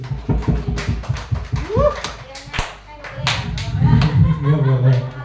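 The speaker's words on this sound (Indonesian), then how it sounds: "Tepuk tangan untuk Bu Dewi" Scattered clapping from a small group at an Indonesian teachers' training session on positive school culture, a few uneven bursts mixed with nearby talking and voices throughout.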